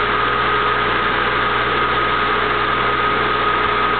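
A Siemens 460-volt three-phase motor, 6.1 horsepower, runs at 3000 RPM with a steady, even electric hum and fixed tonal drone that holds without change for the whole stretch, nearby and loud.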